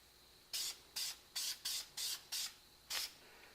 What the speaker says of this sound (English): go ahead and start spraying